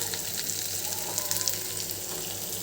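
Hilsa fish rubbed with turmeric, salt and chili powder frying in hot spiced oil, giving a dense, even sizzle with crackling spits, close and steady throughout.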